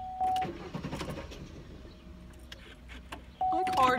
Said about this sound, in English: My car's not starting.